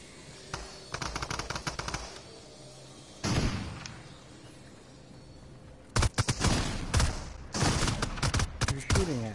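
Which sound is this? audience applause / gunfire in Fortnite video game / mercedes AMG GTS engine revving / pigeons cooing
gunfire in Fortnite video game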